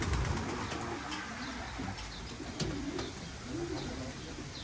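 Racing pigeons coo steadily inside a loft in Kahramanmaraş, repeated soft rolling calls overlapping against a constant background murmur of the flock, with a few faint higher chirps.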